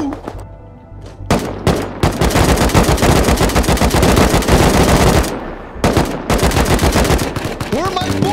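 Rapid automatic gunfire from the survival video game Rust, with bursts of assault-rifle shots in loud, dense volleys, broken by short pauses before firing resumes near the end.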